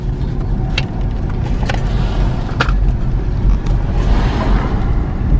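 A car drives through a small Arizona town with a steady, close road rumble and tire noise, broken by occasional light clicks and rattles inside the cabin.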